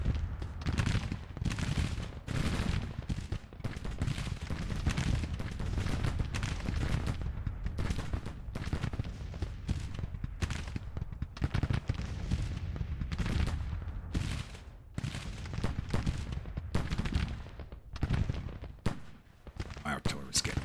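Civil War battle in Grand Tactician: a dense, continuous wash of musketry with heavier artillery booms layered through it, loud and sustained, with a voice talking over the din.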